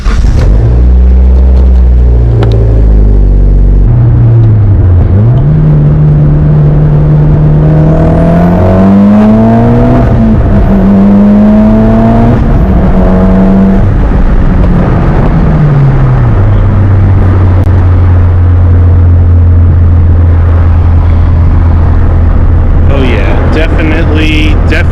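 Mitsubishi Evo X with a newly fitted IRP short shifter on a test drive, engine droning loud and close as revs climb and fall through several gear changes, then settling into a steady cruise.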